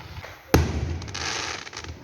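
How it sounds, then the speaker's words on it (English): Fireworks go off: one sharp, loud blast and then a long crackling, hissing spray that trails away, with a few smaller pops behind it. "The fireworks are either coming out from there or from there."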